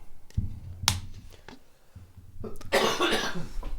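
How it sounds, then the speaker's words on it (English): A few sharp coughs close to the microphone, spaced out with short quiet gaps, the last one a harsher burst. "I'm like coughing in the mic."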